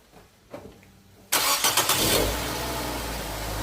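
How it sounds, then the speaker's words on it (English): A Nissan Almera 1.5 starts up: a few faint clicks, then the starter cranks and the engine catches with a loud roar. It settles into a steady idle, close by and with no voices. "So now we'll go in the car and start it up,"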